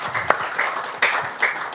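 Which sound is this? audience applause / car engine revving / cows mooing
audience applause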